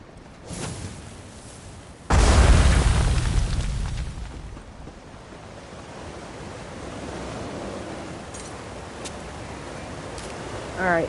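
Bombs explode in the video game Elder Scrolls Online: a loud, booming blast hits suddenly and rumbles away over a couple of seconds, then a washing, surf-like ambience carries on beneath.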